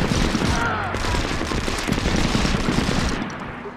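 Rapid automatic gunfire in SOCOM 4 U.S. Navy SEALs, a military shooter, crackles continuously and loudly for several seconds amid dense battle noise, tapering slightly near the end.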